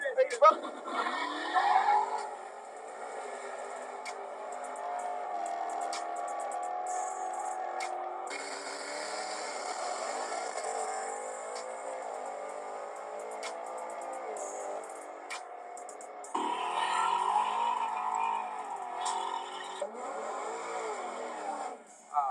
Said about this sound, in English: That car went faster than a 650.